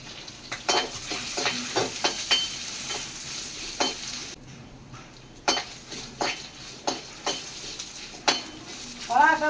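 Urad dal and dried red chillies roast in a pan with a light sizzle, interrupted by repeated scrapes and clinks of a metal spoon stirring, close and moderately quiet.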